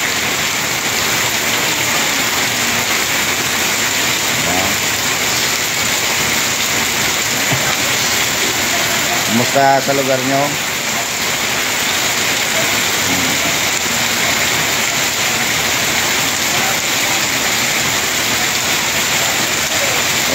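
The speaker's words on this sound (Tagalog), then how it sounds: "Oh, lumalakas pa ang ulan." Heavy rain hisses continuously during typhoon flooding in Naga City, a loud, steady broadband roar with a brief passing engine-like burst near the middle; a voice speaks briefly over the downpour.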